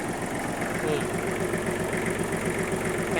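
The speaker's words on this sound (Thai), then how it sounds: "ตัวนี้เป็นเครื่องยนต์3สูบนะครับ" A Kubota L1-195 tractor's three-cylinder diesel engine runs steadily at idle, close up, with an even low-pitched chugging pulse and no voices.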